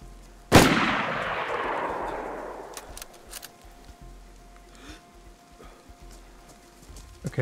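One sharp, loud gunshot in the survival game DayZ near an airfield hangar, followed by a long rolling echo that fades over a few seconds, with a few fainter distant cracks afterward.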